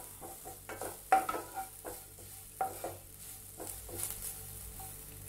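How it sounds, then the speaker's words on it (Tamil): Sesame seeds roasting in a pan for sweet pidi kozhukattai, stirred with a spoon: soft scraping strokes and light crackle recur in uneven bursts, close and fairly quiet, with no talk. "எள்ளு நல்லா வறுபடட்டும்."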